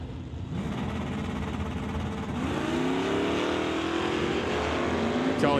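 Drag race between an LS-swapped Fox body Mustang and a 1966 Oldsmobile Cutlass at a no-electronics drag racing event, with loud sustained engine roar and a rising, revving pitch as the cars pull hard toward the top end.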